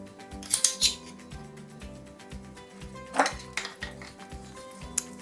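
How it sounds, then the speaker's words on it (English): A metal garlic crusher clicks and clinks as garlic peel is picked out of it, with a run of light metallic taps and a few sharper scrapes close up. "you can just remove the peel out of the garlic crusher"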